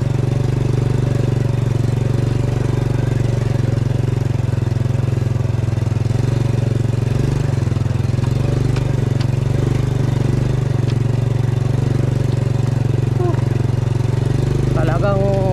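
A motorcycle engine rumbles steadily up close with low, uneven knocking while struggling on a rough, broken trail road in Montalban, Rizal, Philippines, while a person talks over it.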